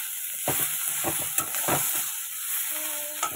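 Onion, eggplant and green chili cook in fish oil in a pan, giving a steady close-up sizzle and hiss. A spatula stirs with repeated soft scrapes and taps, with no talking.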